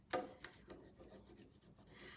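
A transfer rubbed onto a metal surface by hand, a close, faint dry scraping and rasping with a sharp initial stroke followed by softer repeated rubs, alone without talk.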